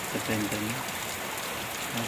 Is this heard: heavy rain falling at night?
yes